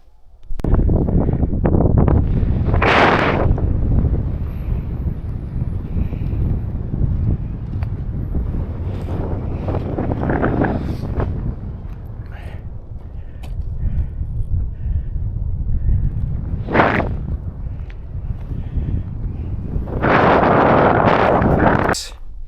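A cold wind blows hard through a mountain gap on a hike near Lake O'Hara and roars loudly across the microphone in gusts, with a faint voice briefly heard.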